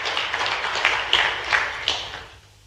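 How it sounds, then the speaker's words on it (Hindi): Audience applause for Prime Minister Narendra Modi at a public event, a moderate wash of clapping with several louder swells, fading out toward the end. "उनका ताली बजा करके स्मरण करें।"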